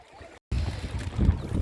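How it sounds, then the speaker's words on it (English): A coracle, a round boat, carries a rider on the water at Hampi: soft water sloshing and wind rumble, with a brief dropout before the washing and splashing grows louder. "This is coracle riding."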